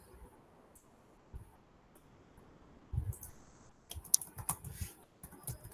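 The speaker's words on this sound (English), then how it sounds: "I'll be typing" A computer keyboard is typed on in soft, scattered clicks and short bursts, quiet and close, with a few louder taps toward the end.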